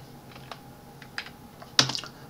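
A few isolated keystrokes on a computer keyboard while entering a formula with alpha and a square root in Word 2019, quiet clicks spaced apart and ending in a sharper, louder tap.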